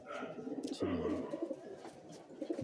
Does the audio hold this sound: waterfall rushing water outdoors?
no